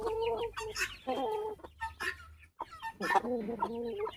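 Hens cluck close by in a farmyard flock that includes a grey hen, with a person talking over the bird calls throughout.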